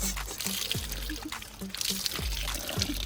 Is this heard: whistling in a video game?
no